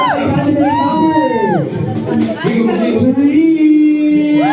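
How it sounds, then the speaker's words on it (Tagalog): A birthday-party crowd cheers and whoops loudly, with excited children shouting and high voices rising and falling throughout, a dense continuous roar with no clear break. "Pahingi ng isang malakas na palakpak."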